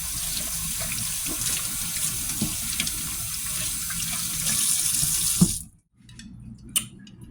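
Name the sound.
washing hands under a running tap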